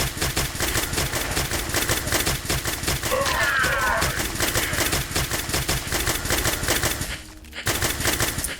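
Rapid gunfire from a first-person shooter game, Dead Trash, as a hobo with a shotgun blasts away, dense loud shots rattling nonstop with a brief dip near the end.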